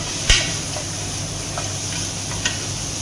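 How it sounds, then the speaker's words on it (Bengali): Butter and onion with garlic in a hot frying pot give a soft, continuous sizzle, with a sharp utensil knock near the start and a lighter tap of stirring later. "হালকা পরিমাণের বাটার দিয়ে দিলাম, তারপর একটা নাড়া দিলাম"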